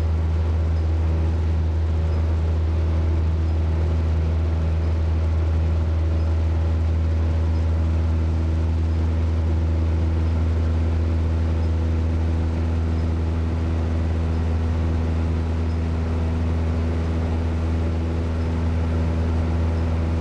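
Steady, loud drone of a 150-horsepower Cessna 172 Skyhawk piston engine at climb power just after takeoff, heard from inside the cockpit as a constant low hum with an unbroken engine tone and no talking.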